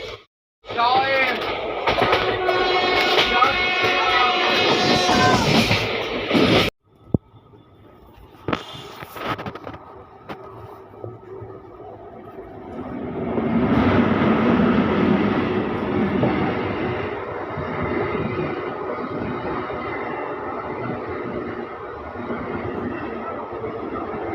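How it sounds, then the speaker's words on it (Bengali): Onboard an Asansol–Malda express pulling away from Tarapith Road station: a loud steady rumble of the moving train with tonal hum, a short break of sharp clanks, then a broad rolling roar building as the coaches gather speed. "ট্রেন ছেড়ে দিল তারাপীঠ রোড স্টেশন"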